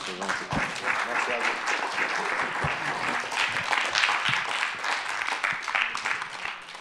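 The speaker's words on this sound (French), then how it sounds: "Il faut applaudir très très fort." Audience applause closing a conference, a dense steady clapping that carries on throughout with voices mixed in underneath.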